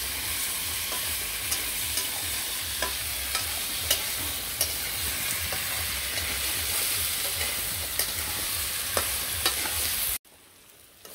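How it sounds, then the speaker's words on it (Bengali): Potato, papaya and other vegetables stir-fry in a pan with a loud, continuous sizzle and regular scraping clicks of a spatula, then the sound cuts off abruptly near the end. "তো সবজিগুলো কষিয়ে নিলাম।"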